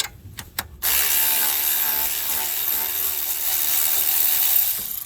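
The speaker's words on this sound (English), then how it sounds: "now I'll use my wrench, my 3/8 ratchet," A 3/8 ratchet wrench loosens the rear brake parts on a 2012 Chrysler 300 with single-piston calipers. A couple of sharp clicks come first, then a loud, steady mechanical whir runs close by for several seconds, with no talking.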